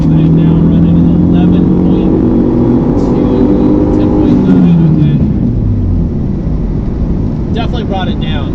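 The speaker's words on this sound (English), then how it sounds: "I'm going to do a couple of wide open throttle runs here" A Dodge SRT-4 engine under wide open throttle, its droning tone climbing steadily and then dropping off, loud and continuous inside the car with some talking over it.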